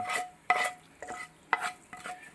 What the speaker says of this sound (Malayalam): നമ്മൾ താളിച്ച ഇത് നമ്മുടെ കിച്ചടിക്കകത്തോട്ട് ചേർക്കുന്നു